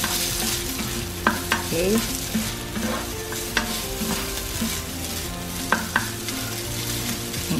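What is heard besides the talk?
stirring garlic fried rice in a pan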